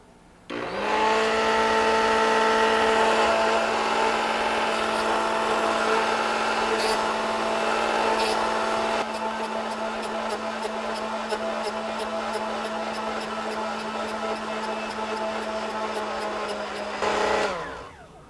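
A Work Sharp Drill Doctor X2 drill bit sharpener whines and grinds steadily for about seventeen seconds while sharpening a bit, the pitch shifting slightly midway before the motor spins down.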